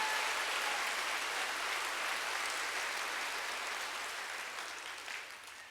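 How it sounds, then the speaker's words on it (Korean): Church congregation clapping during a sermon, a soft, distant wash of applause that fills the room evenly and slowly fades toward the end, with no voices over it. "박수 좀 세게 치고 좀 때가 치고"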